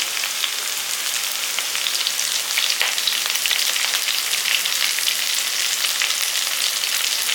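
Two sprigs of curry leaves dropped into hot oil with sautéing vegetables, producing a loud, bright, continuous sizzle and crackle close up, with no voices.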